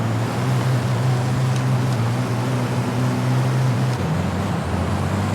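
A racing truck in the ETRC video game accelerates with a loud, steady engine roar that holds throughout, its low drone dipping briefly partway through before carrying on alone.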